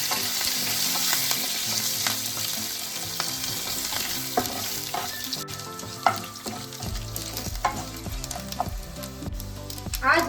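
Mustard seeds and curry leaves sizzle and crackle steadily in hot oil for an upma tempering, loud and close, with occasional stirring clinks.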